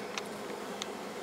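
Honeybees buzzing at a hive in January as they bring in pollen, heard as a steady, faint, dense hum of many insects with a few brief louder passes near the listener.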